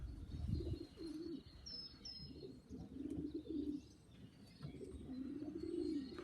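Pigeons coo in low, repeated phrases from a loft, close and fairly loud, with a few brief high chirps and a soft wing flutter over a quiet outdoor background.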